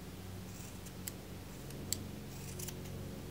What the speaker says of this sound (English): then you're gonna cut through all of these loops at the bottom